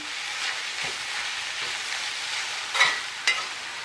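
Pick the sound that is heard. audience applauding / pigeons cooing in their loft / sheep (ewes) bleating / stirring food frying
stirring food frying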